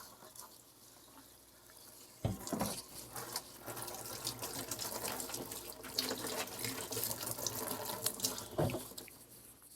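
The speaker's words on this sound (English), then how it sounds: "I'm going to wash my hands real quick because I was touching that meat." Water running steadily from a kitchen tap during handwashing, with splashing and hands moving under the stream, close by and moderately quiet, with no speech.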